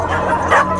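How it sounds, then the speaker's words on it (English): A rescued dog from a South Korean meat farm gives a short, close yip or whimpering bark that lasts under a second, with some background noise. "So the dogs arriving today have been rescued from a meat farm."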